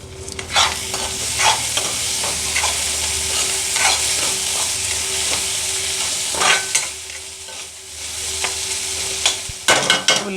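Sliced onions frying in a pan, cooking for a prawn curry with tender tamarind leaves, with a steady close sizzle and repeated scraping strokes of a spoon stirring through them, loudest near the start and toward the end.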